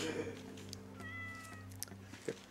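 Cat meowing in Goat Simulator, a drawn-out meow followed by short clicks and thumps of game noise, moderately quiet beneath a steady low hum.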